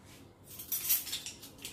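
Metal cutlery clinks and rattles as it is placed into a dishwasher's cutlery basket at home, a quick run of light, bright clatters close by with no talking.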